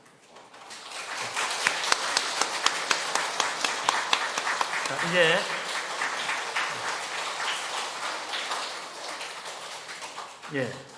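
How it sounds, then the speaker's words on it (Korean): A Korean church congregation claps during a Sunday service after a baptism, applause swelling in and continuing steadily, with a brief spoken word from a leader partway through and another voice at the end. "다시 한번 돌아서 인사하고 우리 박수 한번 하겠습니다"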